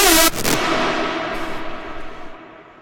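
Studio synthesizer patch played without LFO modulation: a bright, loud attack in the first half second that settles into a steady, slowly decaying sustained tone with no wobble, heard alone.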